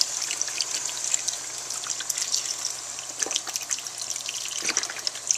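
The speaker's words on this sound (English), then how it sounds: "to this, we're going to add all of the beef broth" Beef broth poured into a pot roast pot bubbles and sizzles steadily at close range, a bright continuous hiss broken by small pops and splutters, with no talking.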